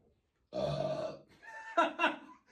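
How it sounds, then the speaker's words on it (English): A loud burp picked up close on a podcast microphone, a long rumbling belch lasting under a second, followed by brief voiced laughter-like sounds. "It was at like 2 or 3, and I burped, and it went up to like 8."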